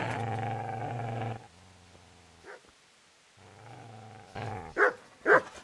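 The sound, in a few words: dog barking and growling in the video game Kingdom Come Deliverance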